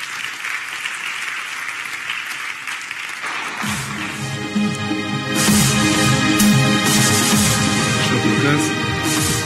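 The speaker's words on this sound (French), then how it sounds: "sous vos applaudissements" Applause at a CCI Troyes et Aube trophy ceremony as a regional development director is introduced. Clapping starts moderately, then loud music with a steady beat kicks in and swells over it.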